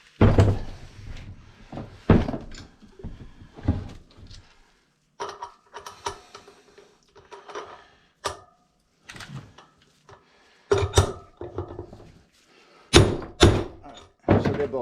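Bearing races in a 1976 Harley-Davidson FLH rear wheel hub are knocked and checked for seating, giving irregular close metallic thunks and knocks with short pauses between bursts.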